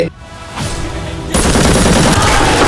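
Gunfire sound effect in a battle scene on the India–China border: a short blast opens, then a dense stretch of rapid shots erupts and holds loud to the end, like an automatic burst.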